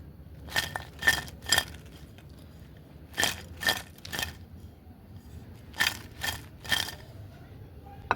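Crispy fried spinach pakoras crunching in three separate groups of two to three sharp, brittle bites each, close and clear over a quiet kitchen background.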